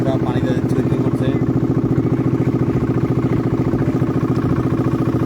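A trawler's engine thumps in a fast, even chugging rhythm, close and loud, as the boat moves across the open water of Bangladesh's Hakaluki haor.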